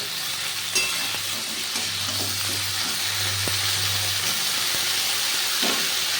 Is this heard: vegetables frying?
yes